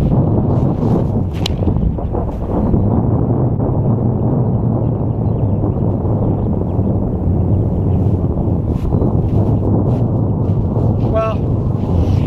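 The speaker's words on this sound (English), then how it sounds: "semi-windy out here, a little cross slash headwind." Semi-windy crosswind and headwind buffet the microphone outdoors on a disc golf field, a loud continuous low rumbling roar with gusty swells throughout, while a person talks over it.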